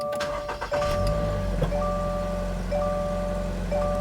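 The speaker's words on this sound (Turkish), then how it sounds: "Sırada bir de aracı bir çalıştıralım." A 2022 Toyota GR86 sports car engine cranks and catches, then settles into a steady, loud idle hum with a sustained chime tone overhead, close by and with no talk.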